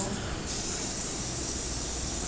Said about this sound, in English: we're cleaning out the airbrush right now